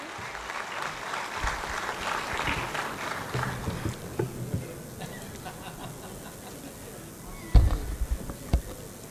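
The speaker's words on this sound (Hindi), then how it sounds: "आपकी तालियों के बीच में।" Audience applause at a Lucknow mushaira, a moderately loud, steady patter of clapping during a trophy presentation that thins out midway, with scattered claps and a few sharper bursts near the end.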